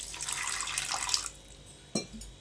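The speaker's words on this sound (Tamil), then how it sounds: "ஒரு 1/4 டம்ளர் மட்டும் தண்ணி சேர்த்துக்கிறேன்." Water pours into a pan of gobi manchurian in a short splashing stream for about a second, then stops. A single sharp clink follows soon after.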